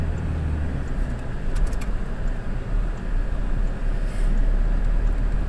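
Toyota Revo pickup with a manual gearbox, driven in second gear: a steady low engine drone with broadband road rumble, continuous and fairly loud throughout.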